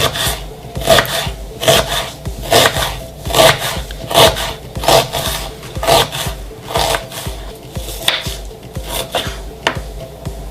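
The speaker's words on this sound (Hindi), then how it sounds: "तो अब बारी है प्याज़ों को बारीक कटने की।" Onion for raita is finely chopped with a knife on a board, giving fast, regular, close thuds in steady bursts, loud and clear with no talking.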